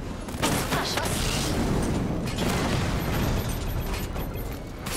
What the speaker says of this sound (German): Die Panzer explodieren.